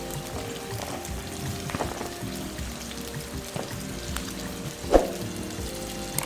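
Chopped onion frying in hot sunflower oil in a pan for mutton liver fry, a steady soft crackling sizzle throughout with a brief louder splash near the end.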